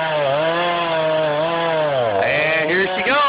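A chainsaw roars steadily as it bites into an elm trunk during felling beside a frozen lake, its engine pitch sagging under load and then rising again near the end.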